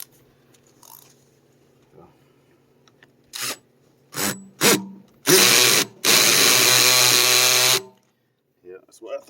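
A weak cordless power drill strains while driving into a plastic septic tank lid riser, firing in several short, loud bursts that build to a longer grinding run, then stops, surrounded by near silence.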